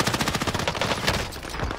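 Rapid machine gun fire in Call of Duty Warzone on Rebirth Island, a fast steady rattle of shots filling the short stretch, close and loud with no voices.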